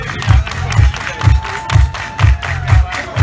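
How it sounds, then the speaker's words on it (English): A crowd at the pre-dawn start of a runDisney race at Disneyland claps in a steady rhythmic beat of loud, close, evenly spaced bursts, with cheering mixed in. "We're clapping. We're clapping."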